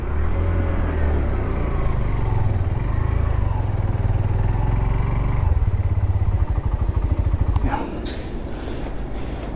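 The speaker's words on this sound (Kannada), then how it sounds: "ಬಿಕಾಸ್ ನನಗೆ ಇದರಲ್ಲಿ ತುಂಬಾ ಸ್ಮೂತ್ ಫೀಲ್ ಆಗ್ತಿದೆ ಇಂಜಿನ." A new Hero Glamour X125 motorcycle engine runs on a first ride, a loud steady low rumble with wind noise that shifts into a faster pulsing putter, then a brief higher rev near the end.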